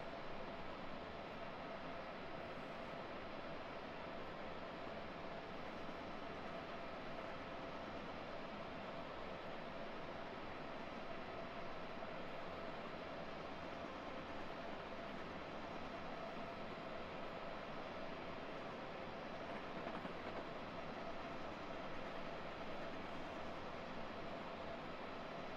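Train accelerating on the Washington-Baltimore line in a video game, a steady broadband rumble and hiss holding constant and loud throughout with no voices.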